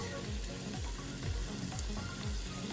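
Hush puppies frying in hot oil give a steady, close sizzle and bubbling crackle with soft rhythmic low thumps underneath, continuous throughout.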